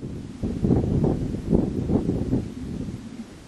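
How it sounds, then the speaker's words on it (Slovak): Wind blows around a dark rock outcrop in the Carpathian mountains at night, a low, rumbling buffeting that swells in several uneven gusts and then eases off, with no talk. "Ja, to je vietor."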